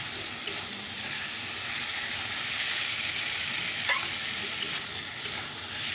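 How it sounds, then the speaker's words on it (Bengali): Spice masala with turmeric and dried chilli fries in a pan, giving a continuous close sizzle and hiss with a few faint scraping stir sounds, and no voices. "চলো এবার মশলাটাকে একটু ভাজা করে নিই।"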